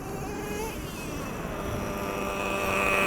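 Traxxas Revo 3.3 nitro RC monster truck engine running steadily with a buzzy, high-pitched whine and harmonic tones, rising slightly in loudness toward the end.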